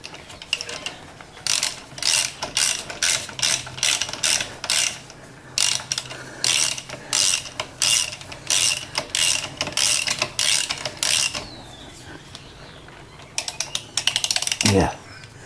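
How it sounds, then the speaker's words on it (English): Ratchet wrench tightening brake bolts on a Honda Goldwing motorcycle during a brake upgrade: rapid bursts of close, loud clicking strokes in repeated runs, with short pauses between them. "Get your ratchet going the right way."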